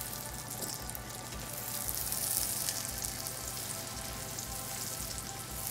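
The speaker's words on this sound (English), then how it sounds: "You see, frying pretty quickly." Eggs fry Waffle House style in a pan, a steady close sizzle and crackle running throughout with a constant low hum beneath.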